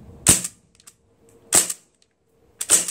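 Sig Sauer MCX .177 HPA air rifle firing three sharp, loud pops evenly spaced about a second and a quarter apart, each with a short crisp tail and faint mechanical clicks between shots, no voices.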